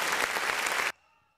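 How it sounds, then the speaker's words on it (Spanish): A crowd at a live event in Villa Antigua, Juárez, Nuevo León bursts into loud close applause that stops abruptly after about a second. "¡Un aplauso para estos hombres!"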